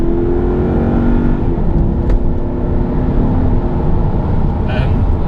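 Loud, steady engine drone from inside a Jaguar XK8 as it speeds up, a low continuous roar with faint whine on top.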